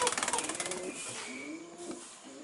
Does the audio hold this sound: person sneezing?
no